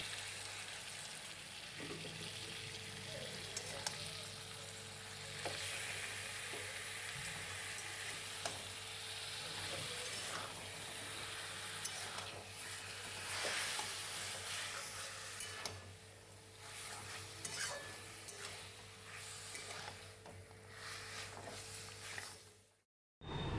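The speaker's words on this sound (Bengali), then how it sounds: "এবার এটাকে ভালো করে লবণ হলুদ দিয়ে একটু জিরের গুঁড়ো দিয়ে কষে নেব ভালো করে।" Taro with chickpeas, ginger, salt, turmeric and cumin powder sautés in a pan with a long, steady sizzle, punctuated by intermittent scrapes and taps of the stirring spoon, close and moderately quiet with no voices.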